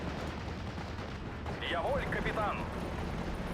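In a video game, a B2 howitzer fires: a sharp artillery blast rings out midway through, followed by a ringing, whistling tail over steady background noise, with no speech.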